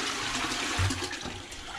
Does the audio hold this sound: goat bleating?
no